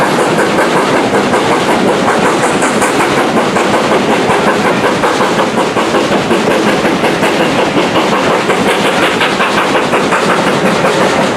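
A tank engine train running on the Bluebell Railway, with a steady loud rumble and rhythmic clickety-clack of wagons passing close by, continuous throughout with no talk.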